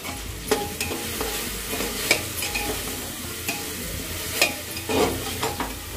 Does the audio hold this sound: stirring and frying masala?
yes